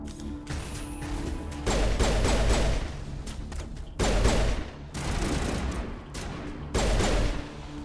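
Gunfire from Mass Effect, heard as several loud sustained bursts of rapid shots separated by short lulls, with impacts and clatter under them.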